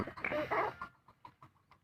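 Breeder hens on a backyard farm give a short burst of close clucking, followed by a few softer, quieter clucks spaced out.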